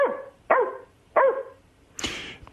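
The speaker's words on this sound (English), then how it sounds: "only one bark." A dog barks three times in a measured rhythm, each bark clear and fairly close, followed by a shorter, rougher yelp or bark at the end, with no talking.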